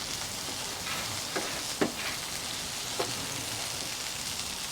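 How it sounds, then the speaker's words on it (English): Garlic and butter sizzle on a Blackstone griddle in a steady, close hiss, with a few soft scraping taps as the garlic is moved around. "Get that garlic mixing around, melting with that butter."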